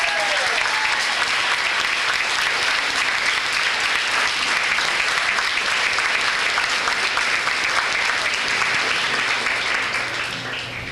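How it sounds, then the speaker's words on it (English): An audience at a high school winter sports banquet claps warmly and steadily for about ten seconds, a dense wash of applause that fades slightly at the end. "A nice round of applause for our guest of honor."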